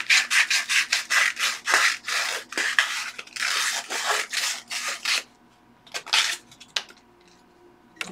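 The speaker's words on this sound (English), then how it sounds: "I'm going to use that sandpaper to sand out a little bit from the inside" Rhythmic scratchy rubbing of sandpaper against the inside of a model rocket centering ring, quick back-and-forth strokes for about five seconds, then a few shorter rasps and handling sounds, close up.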